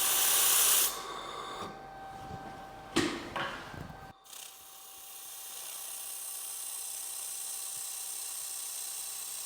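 An XLaserlab X1 Pro laser welder tacks a fabrication joint, giving a steady hiss with a few brief sharp bursts, then falling to a quieter, even background hum.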